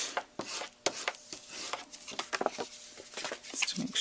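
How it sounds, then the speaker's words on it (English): Paper scored on an envelope punch board is burnished with quick, uneven strokes, a series of close, crisp scraping and rubbing sounds with brief pauses between them. "Continuing to burnish,"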